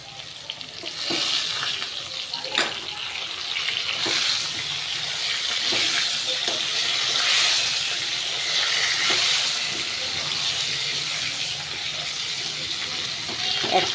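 Eggplant fries in a pan for a pomfret fish curry with potato, giving a steady close sizzle and hiss with occasional stirring clatters throughout.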